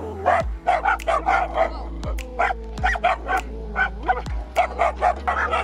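A black dog barks repeatedly in quick, close bursts, with a few higher yips mixed in, while a person talks over it.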